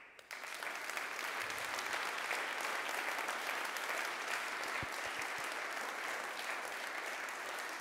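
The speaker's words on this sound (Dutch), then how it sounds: "Ik vind een groot applaus daarvoor." A large crowd at a political party gathering breaks into loud, sustained applause that quickly reaches full strength and keeps up a steady, dense roar of clapping with no talk.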